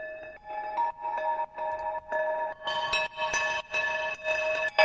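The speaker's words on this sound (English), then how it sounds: "So I have these ice bells." An ice bells synth preset played in a DAW rings out as a run of bright, glassy bell notes in a steady rhythm, each struck tone sustaining briefly before the next, clean and alone.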